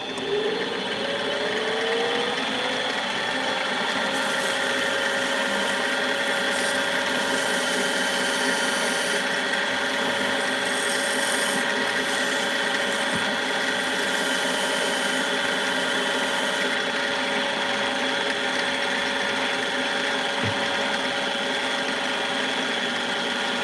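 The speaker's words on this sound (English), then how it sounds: "we're gonna go back and we're gonna sand and see if we can try to get more of those gold flakes to show" A power sander works a ring to bring out gold flakes, a continuous high whine holding steady for over twenty seconds with small shifts in pitch, close and loud, no voices.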